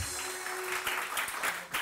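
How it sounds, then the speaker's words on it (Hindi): A studio audience on a morning television show applauds, a soft, sustained patter of clapping with a faint steady tone running underneath. "इसके लिए तालियां बजाएं। बहुत सारी तालियां।"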